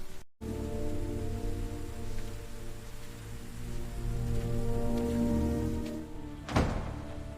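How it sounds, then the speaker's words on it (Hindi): Heavy rain with wind in a desert setting, a steady, dense rush of rain under a low, droning hum, ending in a brief sharp thump. "ये तेज बारिश और हवा, बहुत सर्दी है बेटी।"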